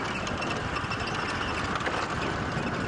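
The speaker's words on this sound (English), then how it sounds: "I'm going to cut the engine again." A safari game-drive vehicle's engine idling at close range, a steady rough rumble with faint knocking texture and no talking.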